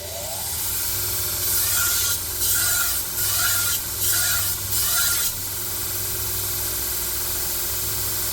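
Knife being sharpened on a finer grit abrasive stone, the blade of a badly damaged Dalstrong knife: a few steady rasping strokes in a row, each a soft scraping rub over a low hum, with no talking.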